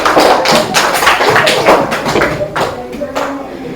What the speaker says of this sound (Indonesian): Tepuk tangan untuk Wika dan Dwi.